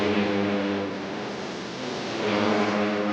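Racing motorcycle in a novice class road race, a loud sustained engine drone that dips slightly in the middle and swells again as it accelerates past.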